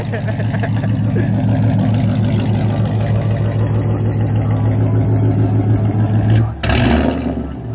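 A car engine idles and revs loudly while warming up, giving a strong, steady throaty rumble close by. A brief dip and a sharp burst come near the end, and a voice talks faintly underneath.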